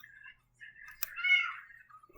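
An orange cat gives a short, clear meow close by, preceded by a few softer chirping cries in a quiet room.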